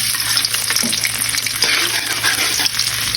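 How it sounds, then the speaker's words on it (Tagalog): Garlic sizzles steadily in a hot pan while being sautéed, a dense bright crackle with light stirring scrapes, close and fairly loud, no voices. "igisa na natin yung bawang"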